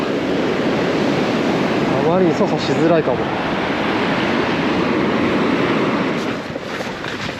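Strong sea waves at a breakwater roar steadily and loudly with wind buffeting the microphone, while someone speaks briefly over the surf.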